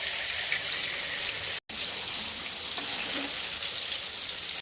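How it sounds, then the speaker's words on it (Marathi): Paneer cubes frying in hot oil with salt and a little turmeric, a steady loud sizzle that holds throughout apart from one brief cut. "एक करून मस्त तळून घेऊयात."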